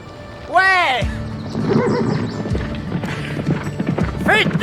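A horse whinnies loudly at the start and again near the end of a race on horseback, with galloping hoofbeats and excited shouting voices in between.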